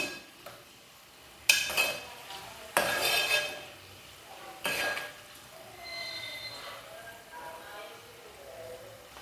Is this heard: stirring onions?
yes